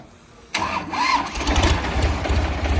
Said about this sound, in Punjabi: ਸਲਫ ਸਟਾਰਟ ਟਰੈਕਟਰ ਆ